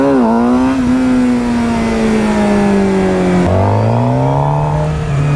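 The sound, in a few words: motorcycle engine revving for wheelies in first gear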